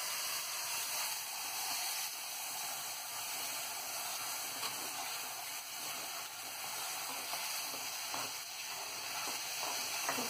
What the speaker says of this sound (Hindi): इसको हम अच्छे से भूनेंगे।